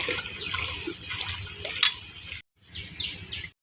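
Thankuni (pennywort) leaves being washed in water in a dish, with close splashing and trickling sloshes that stop briefly and then resume, while birds chirp in the background.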